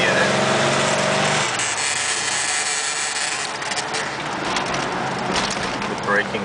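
Car with a 350 V8 engine pulling away under power, a loud rough engine roar that shifts after the first second and carries on with rattles and road noise, heard up close.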